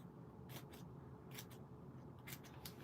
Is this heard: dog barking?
no